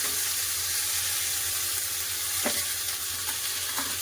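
Potato and bitter gourd dropped into hot mustard oil in a kadai with a broken red chili, a loud steady sizzle and hiss of frying close up, with a few sharp stirring scrapes and no talk.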